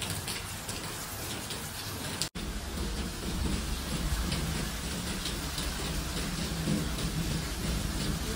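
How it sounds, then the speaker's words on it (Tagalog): Heavy rain pours steadily in Dubai, a dense broadband wash with wind and low rumbles of thunder underneath, broken by one brief dropout near the start, with no talking. "Lakas ng ulan at hangin."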